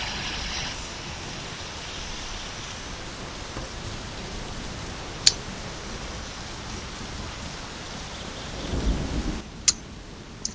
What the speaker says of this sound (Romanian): Iară plouă.